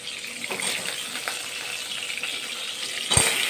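Potatoes frying in hot oil in a home kitchen for a Bengali country chicken curry: a steady close hiss of sizzling with light stirring clatter and a brief louder knock near the end, no talk.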